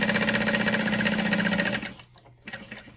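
Sewing machine basting stitches around the sides of a pocket on a crossbody bag, running loud and steady with a fast, even rhythm for almost two seconds before stopping, leaving a few faint handling noises.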